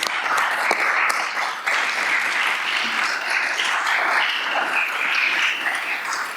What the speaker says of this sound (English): So let's clap for these things.